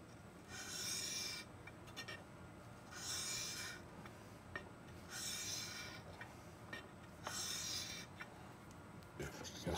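Rhythmic rasping strokes of a glass crystal clarinet mouthpiece being sanded flat by hand on abrasive sheet, four steady back-and-forth bursts with short pauses between, close and fairly quiet.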